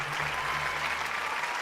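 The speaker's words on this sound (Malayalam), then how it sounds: "ഒരു ഗംഭീര കയ്യടി" Dense applause from a stage-show audience at a family association gathering, a steady, even wash of many hands clapping throughout, loud and close, with no voice over it.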